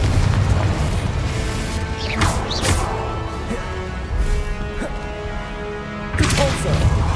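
Spell blasts from Hogwarts Legacy gameplay boom and crash in quick succession, with several heavy impacts and bursts against a loud, busy game soundscape.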